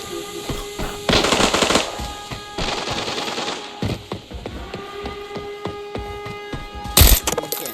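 Gunfire in the video game Arena Breakout: bursts of automatic fire with sharp repeated cracks, some loud near volleys and scattered single shots, with a final loud close burst near the end.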